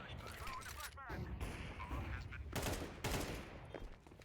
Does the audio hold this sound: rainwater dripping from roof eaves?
no